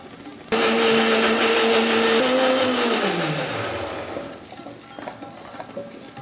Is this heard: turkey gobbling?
no